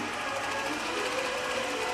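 A computerized longarm quilting machine runs steadily as it stitches a pantograph row across a quilt, giving a continuous mechanical whir with rapid needle rattle, fairly close and without talk.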